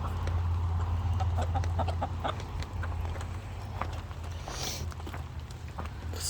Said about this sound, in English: Chickens are enjoying it though.